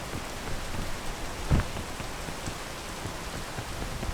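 Rain in the Roblox game Peak hisses as a steady, dense patter on surfaces, broken by one louder impact near the middle, with no talking.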